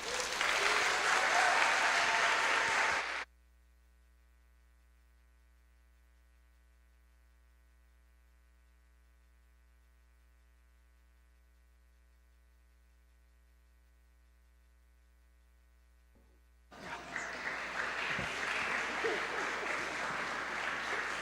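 Audience applause at a Year 11 creative science talk event, a loud burst of clapping that cuts off into near-silence with faint hum, then another round of applause resumes near the end.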